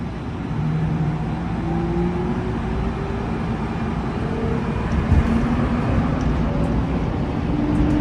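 Airport shuttle train at Phoenix Airport rolling along between stops, a steady low rumble and hum of the moving car with faint whining tones, heard from inside.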